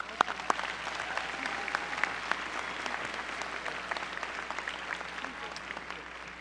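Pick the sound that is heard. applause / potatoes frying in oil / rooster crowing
applause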